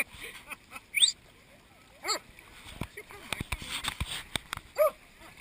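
Dogs at the beach give short yips, barks and whimpers amid splashing water, close and intermittent, while people talk and laugh nearby.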